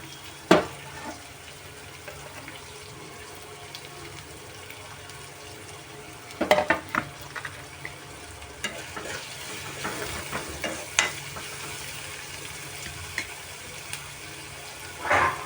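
Onions frying with salt in a pan for an Arati kaya (raw banana) fry, a steady soft sizzle with occasional louder stirring scrapes and clinks throughout, no talking.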